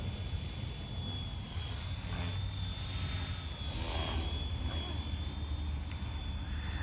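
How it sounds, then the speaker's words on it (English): A Flywing FW450L RC helicopter in flight with an Ace flight controller, producing a continuous high-pitched motor whine over a dense, airy rotor rush at a moderate distance outdoors. "Probably do one more flip before I land this helicopter"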